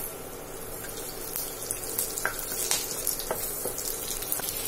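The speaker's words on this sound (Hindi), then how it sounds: "अब इसमें हम ये जीरा डाल देंगे आधी चम्मच और हींग डाल देंगे 1 पिंच और ये हम 1 कटी हरी मिर्च इसको भी डाल देंगे।" Cumin seeds, a pinch of asafoetida and a chopped green chilli sizzle steadily in hot mustard oil, a continuous crackling fry with a few sharper pops, close and fairly loud with no talk.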